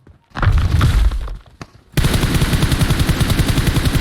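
Gunfire in a PUBG Mobile match: a burst of heavy shots with a thud, a short pause, then a long, loud, rapid-fire automatic stream of evenly spaced shots.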